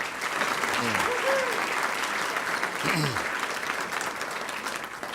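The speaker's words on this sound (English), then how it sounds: "Let's give Jay a tremendous round of applause." A crowd applauds steadily for a state legislator at an Illinois Senate gathering, dense clapping filling the room for several seconds while a few voices call out briefly underneath.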